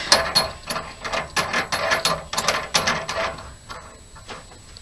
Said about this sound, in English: And then just screw this big nut all the way down.